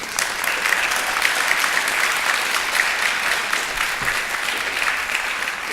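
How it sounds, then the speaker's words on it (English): A high school senior awards ceremony audience gives the parents a long round of applause, a dense, steady wash of many hands clapping at once, loud and unbroken from start to finish. "Let's give your parents a hand."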